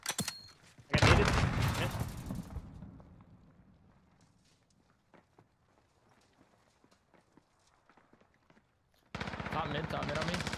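Gunfire in Call of Duty: Modern Warfare: a loud burst of rapid shots near the start, then quiet scattered footsteps and clicks, with another loud stretch of action at the end and voices talking at times.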